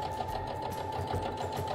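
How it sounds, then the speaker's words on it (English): Sewing machine running steadily in a straight stitch along quilt seam lines, a close, continuous rapid needle chatter with a regular pulsing rhythm and no talk. "we're going to use a straight stitch, and we're just going to follow the seam lines of our quilt"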